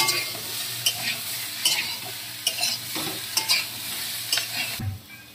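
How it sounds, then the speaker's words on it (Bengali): Taro and fresh bata fish from the Ajay river stir-fried in a pan before salt is added, a continuous sizzle punctuated by regular spatula scrapes and knocks, close and fairly loud, ending abruptly. "এটা আমি ভালো করে কষিয়ে নেব"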